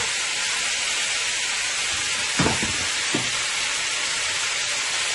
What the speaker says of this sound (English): Look how nice that is frying up.